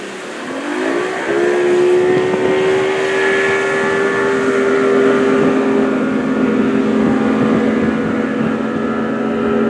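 Two-stroke outboard engines on a 2000 Grady White 248 Voyager boat start up and settle into a loud, steady idling drone with a rising pitch at first, running continuously without talk.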